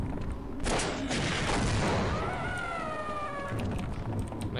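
Gunfire at the big mother headcrab in Half-Life: loud, rapid bursts of shots crowd the first two seconds, then give way to a rumbling boom and wailing, warbling creature cries, with no talk.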